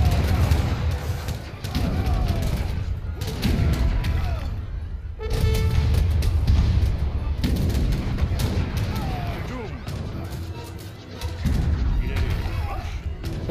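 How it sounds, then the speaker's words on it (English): Cannons fire during a chaotic real-time strategy battle in Age of Empires 3, with repeated booming shots and clattering combat effects layered densely throughout, while players talk over the noise. "Fire them cannons!"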